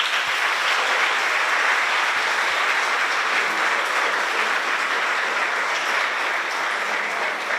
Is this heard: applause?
yes